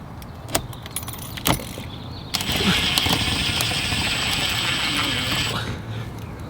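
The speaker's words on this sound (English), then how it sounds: "I got my tapper screw, little washer on top, and then big washer below that, and then we're just gonna screw this up to permanently mount it" Tapper screws with washers are driven to fix a carbon fiber side skirt onto a Cadillac CTS-V, giving close metallic clicks and ratcheting taps, then a steady whirring drive of the screw for several seconds, with no talking.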